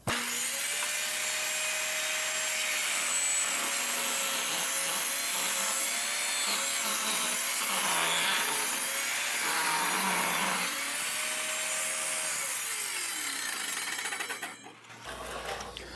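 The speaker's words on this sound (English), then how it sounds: "lock my fence down, and rip off a strip that's 1/8 of an inch" A table saw rips a thin 1/8-inch strip off a rough, unfinished-edged scrap board, a loud steady whine and rasping cut running continuously for about fifteen seconds before the blade spins down.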